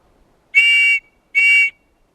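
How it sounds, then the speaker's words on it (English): Survival kit whistle blown twice, two loud, shrill, steady blasts of about half a second each, separated by a short gap, close up with no other sound. "there was this whistle"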